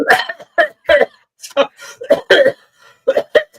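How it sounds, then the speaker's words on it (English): A string of short, harsh coughs comes in rapid bursts close to the mic, spaced unevenly with brief pauses between them. "Oh, God, you made me cough."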